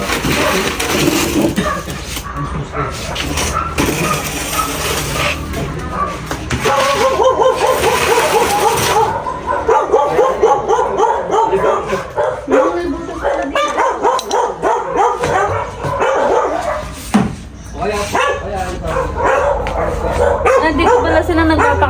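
Several dogs bark and yip in a yard after fighting a cobra, with repeated rapid barks, whimpers and excited cries that are loud and close, and people talking at times among them.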